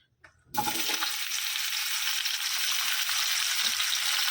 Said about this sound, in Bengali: আর এখানে কড়াই তেল দিয়েছি, মাশরুমটা ভেজে নিই।